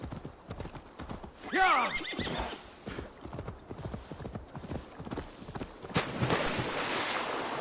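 Hooves clip-clop steadily over a rumbling background in Assassin's Creed Valhalla, with a horse whinnying briefly near the start and a short excited shout from a person.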